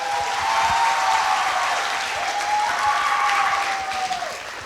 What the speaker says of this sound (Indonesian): Boleh tepuk tangannya teman-teman?